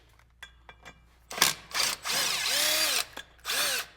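An impact wrench or power driver backs a screw out on a Polaris RZR side-by-side, several short bursts of whirring and buzzing, the longest around a second, close up with quiet pauses between.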